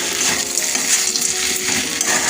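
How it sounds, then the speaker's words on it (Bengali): Spices and nuts sautéing in a pan, a steady bright sizzle with scraping and light clinks of a utensil stirring through it, continuous and close, with no talking. "দিয়ে আরও 2-3 মিনিট আমি কষে নেব"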